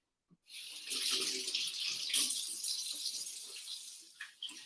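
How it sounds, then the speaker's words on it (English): Tap water runs steadily into a kitchen sink as hands are washed, a close, full hiss that starts abruptly and fades near the end with a couple of splashes. "I'm gonna wash my hands"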